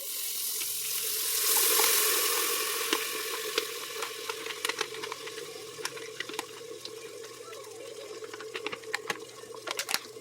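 Hot curry paste sizzles steadily in a pot for chicken curry, a soft crackling hiss with scattered sharp pops that fade slightly over time.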